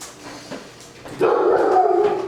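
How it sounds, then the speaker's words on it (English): A pet dog barks and whimpers close by in a home kitchen during bread baking, a short burst of yips rising suddenly and holding loud for about a second. "And there goes my dog, sorry."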